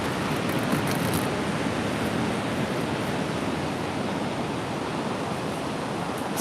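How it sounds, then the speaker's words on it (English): Gentle sea waves wash steadily onto the shore, a continuous broadband hiss and rush with no distinct breaks, close and fairly loud, with no voices. "It's got such gentle waves today."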